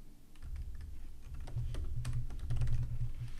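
Quick typing on a computer keyboard, a steady run of close, light key clicks with a few louder taps, with no talking.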